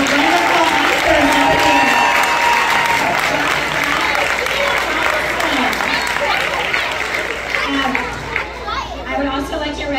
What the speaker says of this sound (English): Let's have a wonderful round of applause for our wonderful actors.